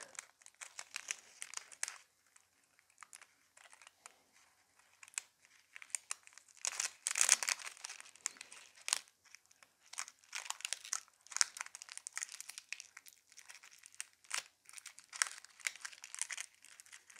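Small pieces of iridescent nail foil being cut and handled for gel nails: close, faint crinkling and crackling in irregular bursts, with brief snips and rustles throughout, no talk.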